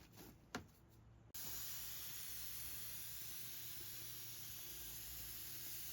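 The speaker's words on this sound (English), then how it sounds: "Now we just have to moisten it all with a fine spray." A short quiet start, then a fine water spray moistening an outdoor worm bin begins with a sudden hiss and keeps up as a steady, even, close whoosh to the end.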